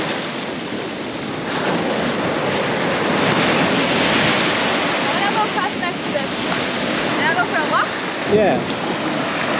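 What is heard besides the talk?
ocean waves at high tide on the shore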